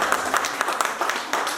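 An audience gives a brief burst of dense, enthusiastic clapping at a gathering, loud and close throughout.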